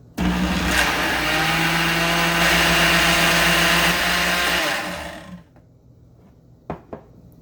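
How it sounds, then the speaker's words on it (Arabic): An electric blender mixing qatayif batter roars loudly for about five seconds, then winds down and stops, followed by a couple of sharp knocks. "واخلي الخلاط شغال ما اوقفه"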